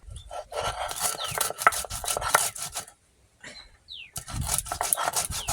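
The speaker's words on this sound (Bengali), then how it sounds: "অল্প জিরে মরিচ বেটে নেবো।" Cumin and chili ground into a paste on a traditional grinding stone: close, rhythmic rasping and scraping strokes. The strokes pause briefly midway, then resume with no one speaking.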